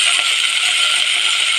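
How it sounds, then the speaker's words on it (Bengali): Dry chana dal poured into a pressure cooker, giving a steady, close, bright rattling patter of many small grains throughout. "নিয়ে এর মধ্যে ছোলার ডালটা ফেলে দেবো"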